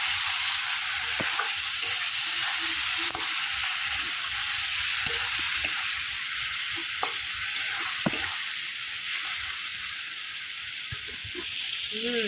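An onion, tomato and spice masala fries with a splash of water for chicken balls, a steady close sizzle with occasional soft stirring scrapes and taps throughout.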